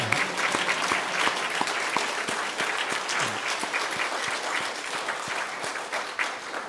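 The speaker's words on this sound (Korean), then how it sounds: "같이 박수 한번 보내시기 바랍니다." A congregation at a Sunday worship service in a Methodist church claps together, the individual hand claps fairly distinct and moderately loud, continuing steadily with no one speaking over it.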